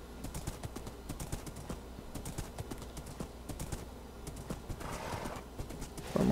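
Horse hooves clip-clop at a steady trotting rhythm while riding in the Minecraft video game, loud and close, with a brief whinny near the end and no talking.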